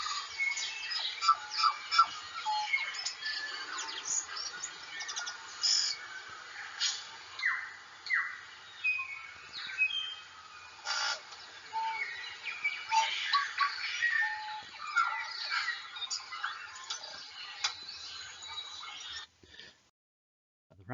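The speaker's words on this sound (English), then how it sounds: "And now of the tui bird." Busy tui birdsong with varied chirps, squawks and whistles overlapping for about twenty seconds, fairly loud and dense, then it cuts off.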